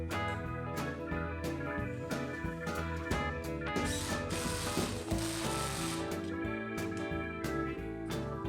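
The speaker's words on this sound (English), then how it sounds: "When you tighten the hose clamp" A hose clamp is ratcheted tight around a glued-up ring of wooden segments, a dense run of close clicking and grinding mechanical ticks that keeps going steadily, with a harsher rasping stretch midway.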